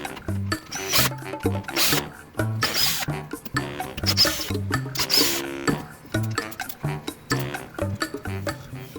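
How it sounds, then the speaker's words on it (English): A screwdriver backs out six screws from the rear of a window master switch case for a 1997-2001 Jeep Cherokee XJ, giving close, steady scraping and ratcheting clicks with brief pauses between screws. "we're going to remove the 6 screws on the back"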